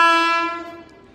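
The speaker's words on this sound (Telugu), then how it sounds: "వ్యాప్ 7 లోకోమోటివ్తో వస్తుంది ట్రైను." The horn of the route-diverted Konark Express, hauled by a WAP-7 electric locomotive and passing through Bhimavaram, sounds as a single loud, rich tonal blast that fades away over about a second.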